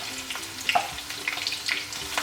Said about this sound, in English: allow it to fry